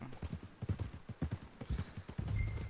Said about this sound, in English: Why'd my horse freaking out?